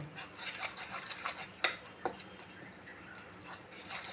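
Gram flour batter for bread pakora being stirred with water added bit by bit, giving soft, quiet, rhythmic scraping and ticking strokes against the bowl with a couple of sharper clinks, close by and without talk.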